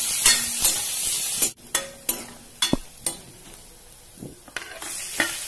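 Ginger, green chilies and onion fry in a pan, a steady sizzle close by punctuated by several sharp spoon scrapes and clinks against the metal.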